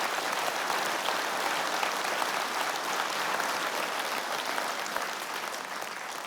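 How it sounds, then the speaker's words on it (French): An audience at a mayor's New Year greetings ceremony applauds in a dense, sustained wash of clapping, steady and full from start to finish, easing slightly at the end. "je voudrais que vous accompagniez et que vous applaudissiez"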